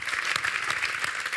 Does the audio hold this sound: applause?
yes